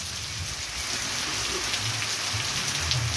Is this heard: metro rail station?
no